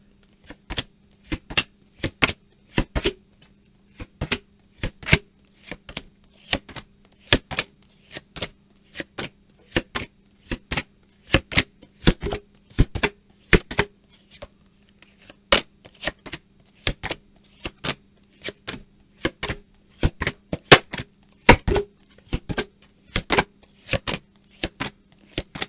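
Tarot cards are shuffled at close range in a long run of crisp riffling snaps and taps, irregular but steady, each one short and sharp against near silence.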